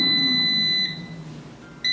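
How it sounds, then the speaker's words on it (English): An air fryer sounds a sustained electronic beep when finished that cuts off, followed by quiet hum and the start of another tone at the end. "That's the final beep."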